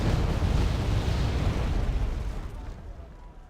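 Bombs dropped by a Su-24MP burst on an M60A1 tank formation in Wargame Airland Battle, a heavy booming blast that rumbles loudly then slowly fades away.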